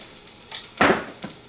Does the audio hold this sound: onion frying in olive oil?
yes